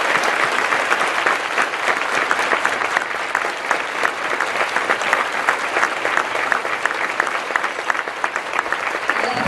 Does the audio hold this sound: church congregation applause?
yes